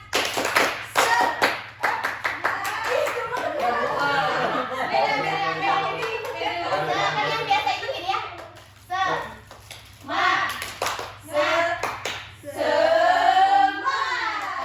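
Students in a classroom clap a rhythmic group chant, sharp bursts of claps in patterned runs alternating with a teacher's speech and children's voices.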